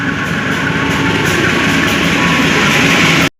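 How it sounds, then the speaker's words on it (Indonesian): A parcel train rolls through a suburban station near Bekasi Timur, a loud, steady close rumble with rhythmic wheel clatter that cuts off abruptly at the end. "Ini masih ada kereta api Parsel melintas."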